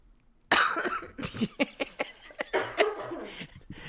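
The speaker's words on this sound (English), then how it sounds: "Is my cough hot?" A burst of repeated harsh coughing, close and loud, in a rapid irregular series after a quiet start.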